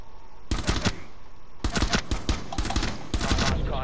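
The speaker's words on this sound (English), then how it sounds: "I shot him in the foot!" Gunfire in the video game Rainbow Six Siege: several loud, close bursts of rapid automatic shots separated by brief pauses.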